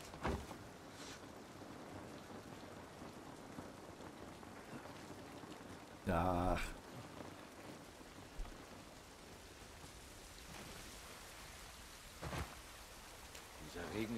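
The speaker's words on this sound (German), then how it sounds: "Dieser Regen ist nicht gut für uns." Steady rain hisses throughout a rainy outdoor scene in The Last of Us, a soft continuous wash with a brief louder burst midway, while a voice speaks briefly over it.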